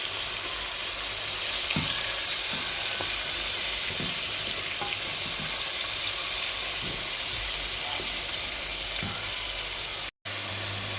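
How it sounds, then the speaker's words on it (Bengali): Meat and shrimp fry for fried rice, a loud, constant close-up sizzle and hiss in hot oil with faint stirring knocks, uninterrupted except for a split-second dropout near the end. "এখন আমি দিয়ে দিব মাংস আর চিংড়ি মাছ ভাজা ভাজা করার জন্য"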